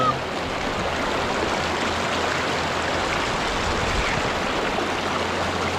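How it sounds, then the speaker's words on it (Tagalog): A river flows in a steady, broadband rush, close and even throughout, at a rural riverside where clothes are washed by hand. "nandito kami sa ilog"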